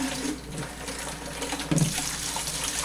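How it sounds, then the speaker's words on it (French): Cold tap water runs steadily into a container being rinsed at a sink, a continuous close splashing hiss that swells briefly midway as the flow hits the vessel. "je vais rincer à l'eau froide mon récipient."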